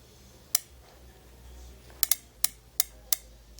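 A stainless Ruger New Model Single Six revolver gives sharp, close metallic clicks, one alone, then a quick pair and three more spaced apart, against a quiet background.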